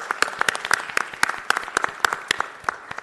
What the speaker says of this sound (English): How about a big round of applause for Goodwill?